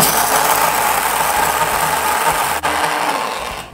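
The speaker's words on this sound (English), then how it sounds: "Anytime I've ever gotten a blade grinder, this is what the directions have told me to do, is just to put the cap on and press down." A blade coffee grinder whirs steadily as it chops whole coffee beans, a loud, continuous buzzing motor that runs without pause for several seconds, dips briefly, then carries on before trailing off.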